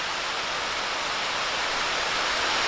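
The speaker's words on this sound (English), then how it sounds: "over there's our waterfall" Steady broadband rush of Overall Run Falls in Shenandoah National Park, a constant roar of falling water heard from an overlook, loud and unbroken with no talk over it.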